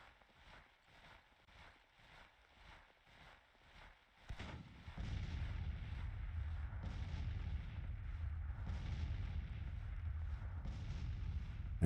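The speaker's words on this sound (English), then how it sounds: "guns are firing into them now" Artillery fire in the Civil War strategy game Grand Tactician at the Glorieta Pass battle: a rapid series of soft, muffled booms at first, then a dense, sustained low rumble of distant cannon fire, with no voices.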